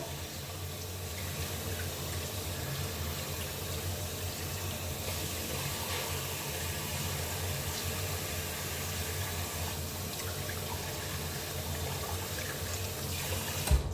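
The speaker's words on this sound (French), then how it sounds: "je laisse un peu poser histoire de rincer le gant" A tap runs steadily while a washcloth is rinsed, a constant close, even rush of water with no pauses for the whole stretch.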